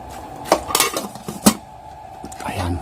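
Pork belly adobo sa gata being stirred in a pan, with a few sharp utensil clinks and scrapes against the metal in an irregular rhythm, fairly close, and faint kitchen background between strokes.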